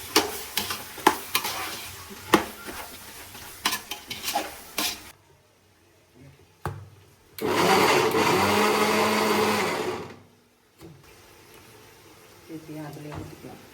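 Washed chicken pieces stirred into sautéed garlic in a pan for homemade chicken dum biryani: rapid close scraping and clattering strokes over sizzling, then a long steady loud hissing rush.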